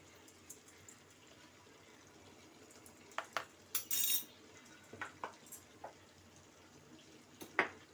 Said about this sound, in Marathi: त्याचबरोबर आलं लसूणची पेस्ट एक चमचा घालते